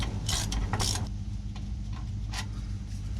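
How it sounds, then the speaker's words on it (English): A ratchet with an E10 Torx bit socket works loose a differential stud on a 2003-2009 Toyota 4Runner, giving quick bursts of metallic clicking followed by a few lighter ticks close by. "the next tool you're going to need is this E10 Torx bit socket"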